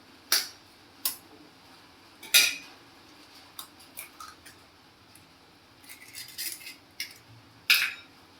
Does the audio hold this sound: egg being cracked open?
yes